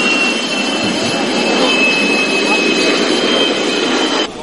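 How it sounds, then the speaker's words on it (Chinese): An F-16 fighter jet passes overhead at a military exercise, a loud, continuous roaring rush that stays strong throughout and cuts off abruptly at the end. "首先登场的是由美国制造的多功能喷射战斗机 F-16"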